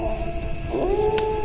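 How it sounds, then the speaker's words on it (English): A single long wolf howl rises and bends in pitch over steady low background noise in a quiet forest, fairly clear and unaccompanied. "Maybe the howl or two of a wolf, the hoot of an owl."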